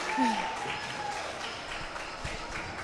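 Boxing crowd at a novice bout cheering and applauding after a round of heavy punches, a steady wash of distant clapping and shouting with a few whistles rising early on.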